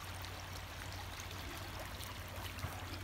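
Creek water flows in a steady, soft, continuous rush, faint and even outdoors on cleared land, with no talking.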